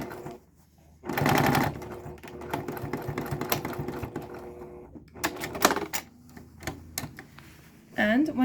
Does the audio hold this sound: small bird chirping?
no